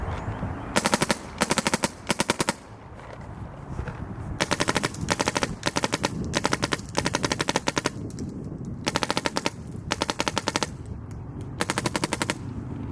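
A MacDev Prime XTS paintball marker fires several rapid full-auto bursts, loud and close, each a tight rattling string of shots separated by short pauses.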